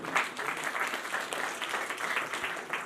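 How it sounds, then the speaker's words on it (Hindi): Villagers in Doher, Kurukshetra, clap together at a gathering, a steady dense wash of many hands that holds at an even level throughout. "इसके नाम से ताली तो बजा दें प्लीज"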